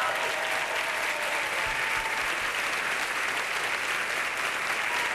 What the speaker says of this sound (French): On applaudit Éric Tonnet